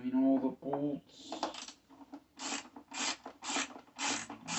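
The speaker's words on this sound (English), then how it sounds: "Just undoing all the bolts." Bolts being loosened with a ratchet on a pancake air compressor that is losing air, heard as repeated close, raspy ratcheting strokes in short bursts, preceded by a brief voice.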